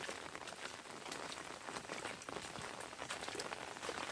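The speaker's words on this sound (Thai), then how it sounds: "บรรยากาศฝนตกอีกแล้วพี่น้อง" Heavy rain pours down in a dense, constant hiss of drops striking surfaces, steady throughout with no voices.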